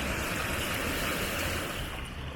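Water splashing steadily in a city fountain in Katowice, a loud, continuous rushing wash heard up close with no break and no talk.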